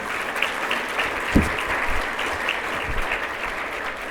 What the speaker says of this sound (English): Why don't you give her another round of applause?